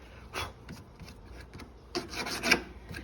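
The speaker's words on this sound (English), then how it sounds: "I've got another file which is much finer. And you can really clean up that edge really smooth and nice." A fine hand file is drawn across the edge of a billet metal dash piece for a truck, in rough rasping strokes that come in uneven bursts, close and fairly loud.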